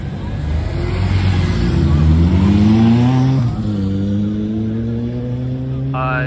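Engine noise and tonal revving from cars in New York City traffic, a steady loud roar with rising and falling pitch as vehicles accelerate close by, and a brief higher tone near the end.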